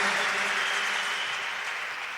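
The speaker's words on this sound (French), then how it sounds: "Est-ce qu'on peut applaudir le Seigneur Jésus?" A church congregation applauding the Lord Jesus during a sermon, a smooth, dense wash of clapping heard at a moderate distance, steady and slowly fading.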